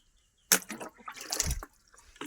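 Water is poured into a container of soaked oil cake, a sudden splash and gush followed by uneven sloshing and trickling, close and fairly quiet, with no talk.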